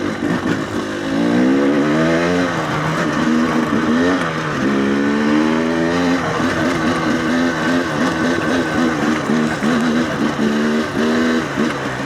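GPX TSE 300R motorcycle fitted with an X Gen 3 carburetor, engine revving loud and close in third gear, pitch climbing and dropping in repeated surges over steady wind noise.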